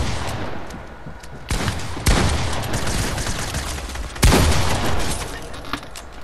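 Video game gunfire crackles continuously, with sharp louder shots standing out against a dense, busy background of rapid fire.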